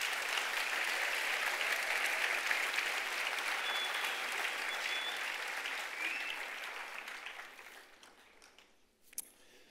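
An audience applauds at an evening event, a thick burst of clapping that runs strong for several seconds, then thins out and dies away near the end with a few last claps.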